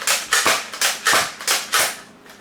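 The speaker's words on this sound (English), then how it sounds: "You prime and you shoot" A BoomCo Halo Covenant Carbine toy blaster is repeatedly primed and fired, a quick series of sharp plastic snaps and clacks in close succession, loud and near with no talking.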